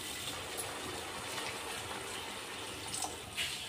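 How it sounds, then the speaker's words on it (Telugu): Water pours steadily into a cooking pan for a few seconds, a continuous close splashing gush with no talking over it. "ఇంకా కొంచెం వాటర్ వేస్తాను"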